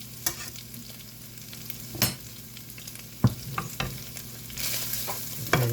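A spoon stirs tomato paste into sausage and potatoes frying in a pan, with steady sizzling under scattered scraping knocks and a louder hiss near the end; nobody speaks.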